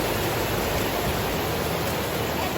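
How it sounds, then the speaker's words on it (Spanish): The Provence river near Ushuaia in Tierra del Fuego rushes past in a steady broadband roar, loud and continuous with no voices over it. "El río Provence."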